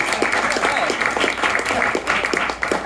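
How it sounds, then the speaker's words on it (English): Part of an improv theater audience claps for its chosen team, lively rapid hand claps ringing out in a busy, moderately loud burst that continues steadily for the whole stretch. "Clap your hands"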